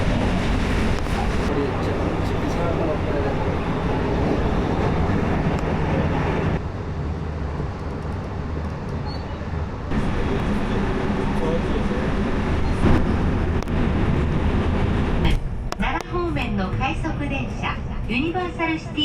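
A train pulling into a station in Japan, a steady rumbling roar of wheels and motor that swells and shifts as it arrives, with voices talking over it and a brief tonal chime near the end.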